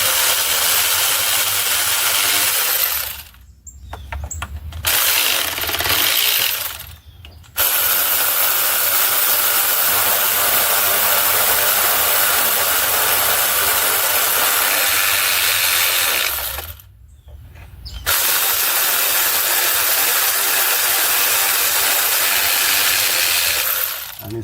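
A Craftsman power tool whirs loudly and continuously while working on a 2009 Dodge Journey 3.5L engine during intake manifold removal, with brief pauses as the tool stops and restarts, then runs on at full speed.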